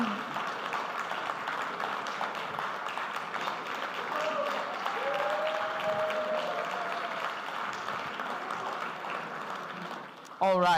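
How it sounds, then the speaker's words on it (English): Audience at an evening business event in a Cyprus hotel applauding the company founder, steady crowd clapping throughout with a brief musical swell in the middle and an abrupt cut at the end. "let's give a huge round of applause to our founder and managing director"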